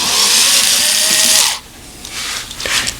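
A small power tool spins loose bolts on the engine cover of a 2009 BMW Z4 30i, a loud close high-pitched whir lasting about a second and a half before cutting off, followed by quieter handling noises.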